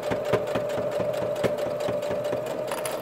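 A sewing machine stitches a fabric origami pouch, running at a steady pace with a rapid rhythmic needle clatter and motor hum, close and alone without voices.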